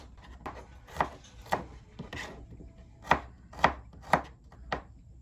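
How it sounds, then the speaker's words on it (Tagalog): Onion being chopped with a knife on a board for chicken pastil, about nine or ten distinct cuts spaced out and uneven, with faint room background between strokes and no talking. "nagsimula na rin ako ditong maggayat na mga ilalahok ko. Una na nga, yung sibuyas."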